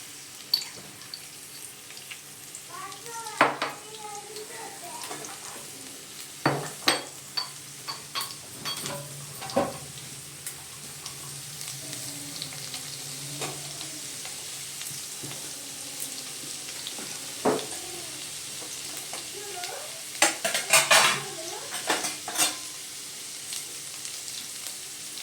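Crushed garlic sizzling in hot oil in a pan, a soft steady fry broken by scattered scraping stirs and clinks, close and fairly quiet with no talk.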